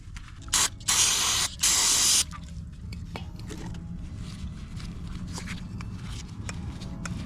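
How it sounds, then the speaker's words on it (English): Cleaner is sprayed onto the throttle body of a 2002-2006 Chevy Avalanche, Silverado or Tahoe. Three loud, close hissing blasts, the last one longer, are followed by quiet handling noises. "You can also spray on the rag to wipe it off as well."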